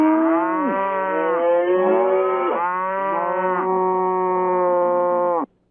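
Loud cow mooing plays as a show's Deca Moo: a rapid string of overlapping low bovine moos, some bending in pitch, running continuously for over five seconds before stopping abruptly.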